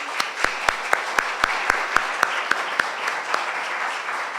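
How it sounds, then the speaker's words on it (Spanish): Conference audience at a university talk on sound documentary applauds, a steady wash of clapping with a few loud, regularly spaced claps standing out near the microphone. "un nuevo aplauso para Graciela"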